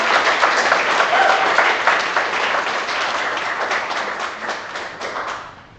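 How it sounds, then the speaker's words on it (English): Sustained audience applause for the presenters at a live evening event in a design studio, a dense wash of many hands clapping loudly and steadily before tapering off at the end. "let's give them another round of applause"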